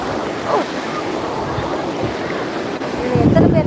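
Sea waves wash against rocks at Tiruchendur beach at dawn on a full moon day, a constant near surf roar with gusty wind, while a person talks over it.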